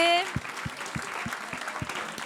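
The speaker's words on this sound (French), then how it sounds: "j'aimerais qu'on les applaudisse très fort, toute la prod, Kaina TV" A studio audience applauds the production crew of Kaina TV, with a steady wash of clapping and a few louder low thumps, following a brief tone at the start.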